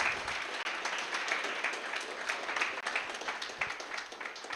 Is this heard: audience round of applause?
yes